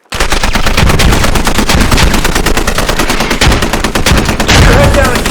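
Dense, loud gunfire from a live-fire exercise in the PC game Squad: rapid automatic bursts crackle continuously and close by, with overlapping shots filling the whole stretch without a break.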